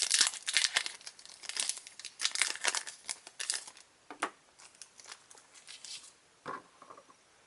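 A Pokemon TCG booster pack wrapper from a Mega Charizard X collection box is torn and crinkled open, with close, loud bursts of foil crackling and rustling that thin out into occasional crinkles and handling taps.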